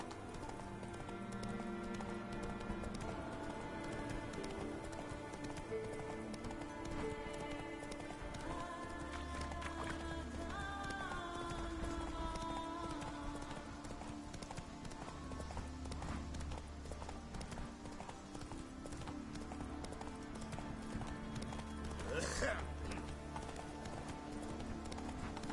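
Roach the horse from The Witcher 3 trotting with steady, close clip-clopping hooves that run through the whole stretch, under a bed of game music with low drones and brief swells.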